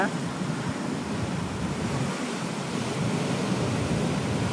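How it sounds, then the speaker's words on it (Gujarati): Sea waves break on a shore along a fishing coast, a steady, close roar of rushing surf mixed with wind buffeting the microphone. "આમ મોજા તો તમે જોવો"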